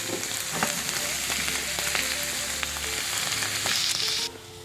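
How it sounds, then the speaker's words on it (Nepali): Green onion sizzles in hot oil while keema noodles cook, a dense close frying hiss with light stirring taps, cutting to a quieter hiss near the end; no voices. "अब म यो हरियो प्याज पनि हाल्दिएँ यहाँनिर"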